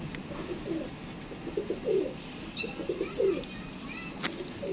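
Pigeons coo softly nearby in a loose series of low, throaty calls, with a few faint chirps and background noise.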